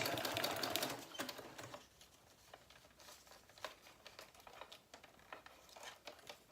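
A sewing machine stitches through junk journal paper pages in short bursts, quiet and close, with rapid needle patter and some paper crinkling between runs.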